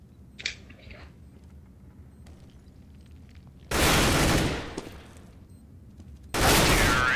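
AK rifle fire in the video game CS:GO, two loud sustained bursts in the second half after quieter game sounds and faint talk.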